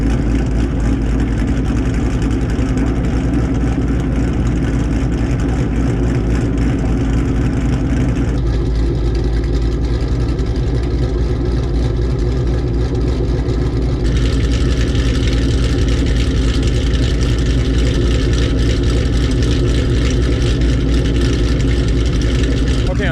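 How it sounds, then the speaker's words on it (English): A Ford truck with a LUND Racing ghost cam tune idles with a loud, deep, steady exhaust rumble, holding a lumpy, even throb throughout with no revving. "it is way louder than stock. Like behind the car, it's really loud. really loud at idle."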